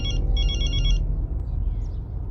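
A phone rings indoors with a loud electronic ringtone, two bright bursts of trilling tone, then it stops, leaving a low room murmur.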